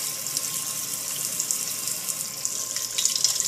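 Tap water runs steadily into a sink while a butterflied Florida lobster tail is rinsed beneath it, a constant close hiss with no pauses and no voices.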